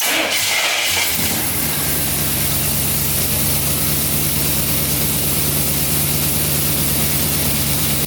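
A Jeep FSJ Cherokee Chief engine fires up after a brief moment and then idles steadily, a loud continuous low drone with broadband hiss as the steering is slowly turned back and forth.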